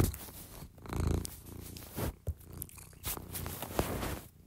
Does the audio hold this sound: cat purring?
yes